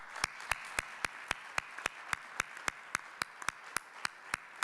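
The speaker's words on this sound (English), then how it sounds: "please give a warm round of applause to our 4 panelists." Evenly spaced, sharp hand claps sound in a steady rhythm, fairly quiet and close, like a small audience clapping along, as four panelists are welcomed at a panel event.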